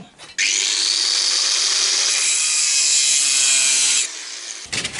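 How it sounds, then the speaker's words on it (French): A power tool cuts a piece of material to 136 mm while fitting a Citroën Xantia interior into a Traction 11B; one loud, steady, high whine runs for nearly four seconds, then stops abruptly, with small handling noises before and after. "il faut que je découpe ici à 136 mm"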